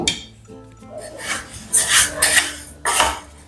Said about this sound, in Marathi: आता हे आपण भाजून घेऊ कढई गरम झालेली आहे